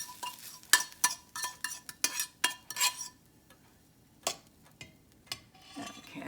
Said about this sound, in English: we're going to start mixing all of our ingredients together to make our meatballs.